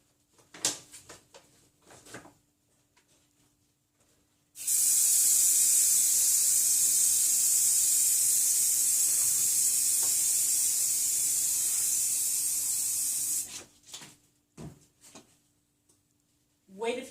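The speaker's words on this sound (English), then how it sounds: "So go pretty moderately to fast pace when you're spraying your edge." Spray adhesive from an aerosol can, sprayed along the edge of a closet door, comes out in one loud, close, continuous hiss lasting several seconds, with quieter handling noises before and after.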